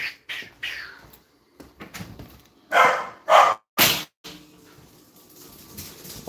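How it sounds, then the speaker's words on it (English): A dog barks and yips in short, scattered bursts of varying loudness, fairly close, with a few quieter sounds between barks. "why are you barking?"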